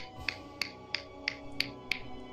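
Six crisp finger snaps, evenly spaced at a steady rhythm, given as a beatnik-style clap, close and fairly quiet over a faint background hum.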